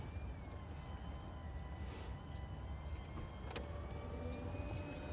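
Electric soft top of an MG Cyberster dual-motor AWD roadster closing, a steady low motor hum with faint whirring and a couple of light clicks near the end, heard close and alone.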